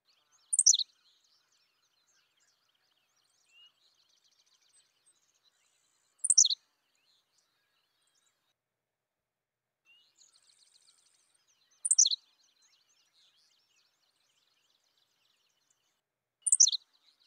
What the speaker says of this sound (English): The Henslow sparrow. It has a very characteristic short song or call.